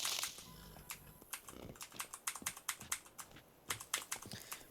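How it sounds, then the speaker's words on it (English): Keys clatter on a Corsair mechanical keyboard, quick bursts of crisp clicks in uneven runs, close and fairly quiet, with no talking. "I got a really cool Corsair keyboard with great action. It's noisy"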